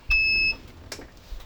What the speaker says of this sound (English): This one does beep a fair bit